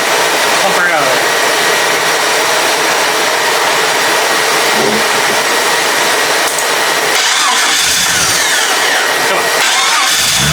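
A 4.0 engine with a worn rod bearing runs on its oil additive until the pressure drops to zero. It makes a loud, constant mechanical roar and whine with rattling throughout, and no talk is heard.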